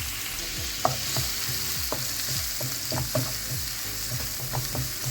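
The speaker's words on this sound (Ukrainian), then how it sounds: "І відправляємо сюди цибулю та обсмажуємо." Onion frying in melted butter in a pan, a continuous sizzle punctuated by regular scraping stirs, close and without speech.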